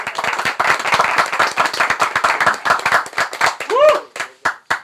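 Live audience clapping at a comedy jugat show in Faisalabad, a dense burst of many hands applauding close by, with brief voice-like calls rising near the end.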